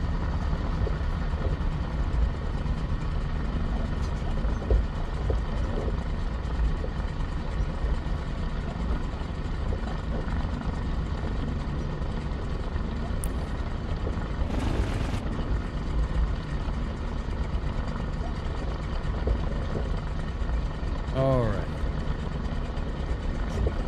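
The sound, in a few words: tailwheel airplane doing a high-speed taxi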